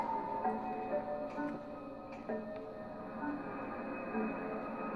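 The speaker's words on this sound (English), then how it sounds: "Oh, there's the train!" A train rumbles faintly in the distance in the video game Alice: Madness Returns. It comes as a low, steady mechanical drone with light ticking and clacking over a quiet ambient background, and no one speaks.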